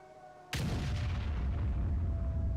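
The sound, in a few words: M44 artillery firing in World of Tanks video game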